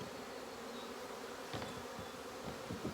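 Bees buzzing around a hive as it is handled, a steady low hum filling the space, with a few faint knocks and shuffles near the end.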